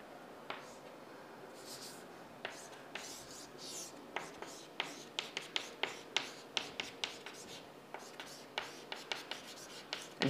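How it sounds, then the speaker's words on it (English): Pen strokes while notes are written by hand during a database systems lecture: short, irregular scratchy taps and strokes, close and faint over a quiet room hum, coming in quick clusters. "Let me write those things."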